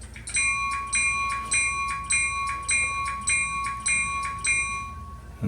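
A model train's electronic bell rings in a steady, repeating ding about twice per second, clear and close, with a bright metallic tone and no talking over it.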